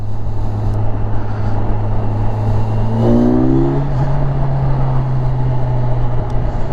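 A 2022 Kawasaki 1000 SX motorcycle engine drones steadily, then revs up in a quick series of rising pitch sweeps as it accelerates through the lower gears, loud and close with wind rush.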